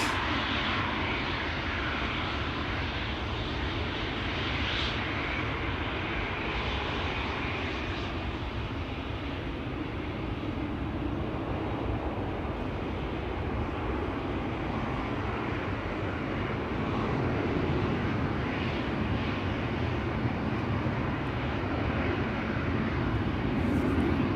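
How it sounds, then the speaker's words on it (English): A Helvetic Airways Embraer 190 long-range jet airliner on flight 725 to Zurich roars steadily at Schiphol Airport, a broad continuous engine rumble holding loud and even throughout with no voices. "Helvetic Airways, flight 725 to Zurich. Embraer 190 long range, 15 years old, first flight April 2010"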